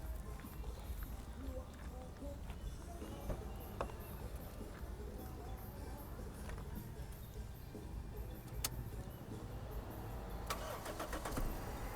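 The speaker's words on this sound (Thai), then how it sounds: "มาฟังเสียงเครื่องยนต์กันดีกว่าครับ" A 1600cc Toyota Corolla engine idling and running steadily at moderate distance, with a few sharp clicks and rattles over a continuous low mechanical hum.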